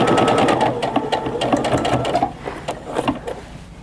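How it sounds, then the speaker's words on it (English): Sewing machine running a straight 1/4 inch stitch along a French seam on a pillowcase, a steady close whir with brief pauses and restarts as the fabric is fed. "So I've got my sewing machine set up to sew just a regular 1/4 inch stitch here."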